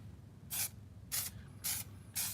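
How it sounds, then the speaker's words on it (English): Aerosol adhesion promoter can sprayed in four short, even bursts onto car trim pieces for an Infiniti G37 coupe, each hissing spray lasting about a quarter second, close and clear over a low background hum. "you can see that I'm spraying this at about 8 to 10 inches away from the parts"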